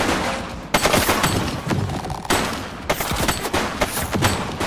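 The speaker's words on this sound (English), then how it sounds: "He's shooting!" Rapid bursts of gunfire from a police shootout in the video game The Precinct, loud and close, with repeated volleys and sharp single shots across the clip.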